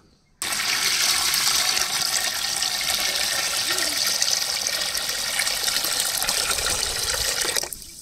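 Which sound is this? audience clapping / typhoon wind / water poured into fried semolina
water poured into fried semolina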